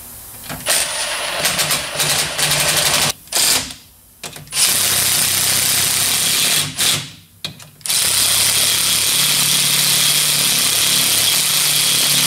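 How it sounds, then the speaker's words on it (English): A power tool drives a thread chaser through the threads on a Chevy II wagon, a loud steady whirring drone that stops and restarts twice in short bursts before running on continuously. "this is a thread chaser, not a tap. It just cleans up the threads."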